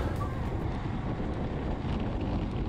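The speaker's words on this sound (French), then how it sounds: "Le vent vient de la gauche." Strong wind buffeting the microphone in a steady, rumbling roar with no break, loud and close throughout, during a cycling race.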